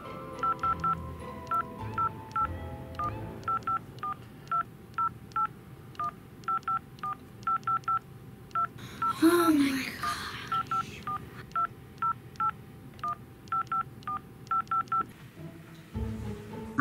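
Touch-tone telephone dialing, a long series of short evenly spaced beeps in quick clusters, fairly faint, with a brief voice or noise in the middle and a low thump at the end.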